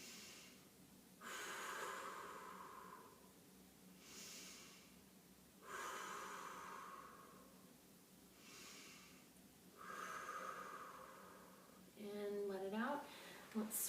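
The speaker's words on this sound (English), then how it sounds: "We're going to go 4 deep breaths here." Deep, slow breaths during a side plank in a prenatal workout, three long exhales spaced evenly about four seconds apart, close and soft, followed by a brief squeaky sound at the end.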